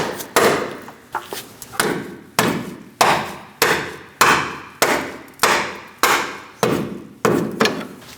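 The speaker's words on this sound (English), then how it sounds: "You may need to give it a tap to get it through all the way, or use your punch." A Chevrolet Cruise front lower control arm bracket being driven into place with a punch and hammer, about fourteen sharp metallic blows in a steady rhythm, loud and close with short ringing decays.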